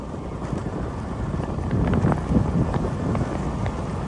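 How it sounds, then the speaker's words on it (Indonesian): Strong wind buffets the microphone on a road route between Sa'dan and Balusu, a steady loud rumbling roar with gusts swelling midway, heard alone without talk. "Angin sangat kencang ini guys deh."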